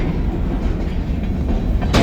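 A freight train hauled by ELS 503, an Escanaba and Lake Superior Railroad locomotive, pulls a long string of stored rail cars, giving a loud, close, steady rumble with rolling clatter and a sharper burst at the end.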